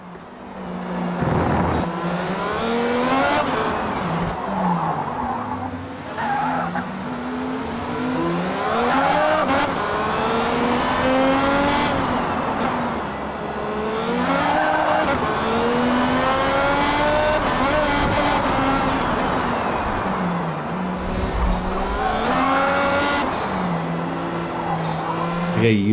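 Car engine in the Space Engineers game droning and revving with rising and falling pitch, tyres squealing and skidding through turns, continuous and loud throughout, a voice talking now and then over it.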